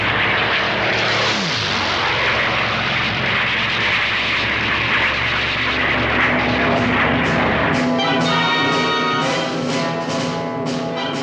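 World War II Hurricane and Spitfire fighter planes fly over the North African desert, a loud steady engine roar filling the whole stretch with no speech.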